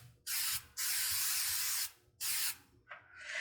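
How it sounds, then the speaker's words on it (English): Krylon Easy Tack repositionable adhesive sprayed onto craft mesh: two long hissing aerosol bursts, close and loud, separated by short pauses, followed by a softer, brief final spray. "I'm actually gonna spray that straight on the craft mesh."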